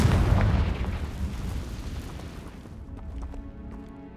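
A Confringo fire spell in Hogwarts Legacy erupts in a loud, close blast at the start whose rumble decays over a few seconds into quieter musical tones.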